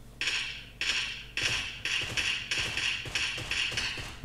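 Single-shot tap fire from an M16 rifle in PUBG Mobile Lite, a steady run of about eight sharp, evenly spaced cracks with soft thuds between them, fairly loud and close, with no talk over it.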